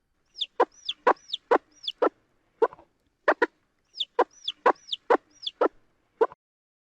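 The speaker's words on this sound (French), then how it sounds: "C'était le gloussement d'appel de la poule." A hen's clucking call: short, rhythmic clucks repeated in two quick bursts with brief pauses, close and clear, no other sounds.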